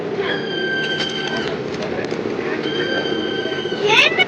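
A train rolls past nearby with a steady rumble and high metallic whine, a faint chirp or two over it.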